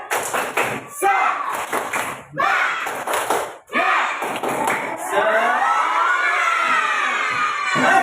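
A classroom of schoolchildren shouts a spirited clap chant in unison, bursts of rhythmic clapping and thumps mixing with loud, near voices, ending in a long sustained group cry.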